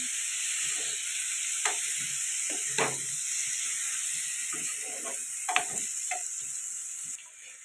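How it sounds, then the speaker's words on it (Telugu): Raw snails being stirred with masala in a pan for a Kakinada-style curry: repeated scraping, clicking strokes of the spoon over a steady sizzling hiss, close and fairly quiet. "ఇప్పుడు కడిగి పెట్టుకున్న ఈ పచ్చినత్తలు ఇందులో వేసేసుకున్నాం ఇవి ఈ మసాలాలు బాగా పట్టేలాగా కలుపుతున్నా"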